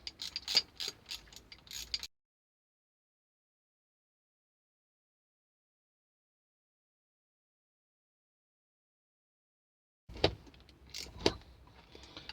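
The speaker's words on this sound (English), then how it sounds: "switching tools to the 4mm Allen head on the 1/4 inch ratchet" A 1/4 inch ratchet fitted with a 4mm Allen head tightens bolts while a Puma Slickshift is installed: two short bursts of rapid mechanical clicking, separated by a long stretch of silence.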